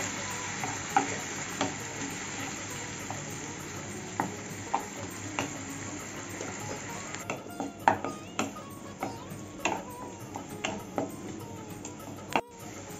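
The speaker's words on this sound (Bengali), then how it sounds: "ভালো করে কষিয়ে নেব মশলাটা" Spice paste with a little sugar and water for loti kasundi fries in a pan, giving a low continuous sizzle with regular sharp ticks of a spoon scraping and stirring, close by, and faint birds far off.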